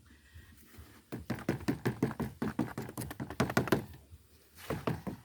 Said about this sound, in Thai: เคาะอันนี้ก็คือการเคาะไล่ฟองอากาศนะครับ